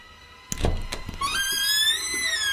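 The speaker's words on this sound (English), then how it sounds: "You're banging the door so badly." A loud, close thud of banging on a door in a horror film jump scare, followed by a rising, wavering eerie tone that sustains to the end.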